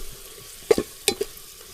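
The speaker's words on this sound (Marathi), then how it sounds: "तर आता त्याच्यात खोबऱ्याचं वाटण टाकू आपण आणि थोडंसं तेलामध्ये परतून घेऊ." Ground coconut paste frying in oil over a wood fire, with a few short, quiet scrapes and sizzling clicks as it is stirred, mostly faint between the bursts.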